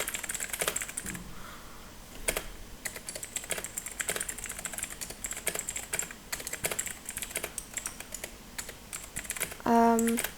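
Typing on a computer keyboard while entering text in CapCut on PC: a close run of quick, uneven key clicks, ending in a short chime.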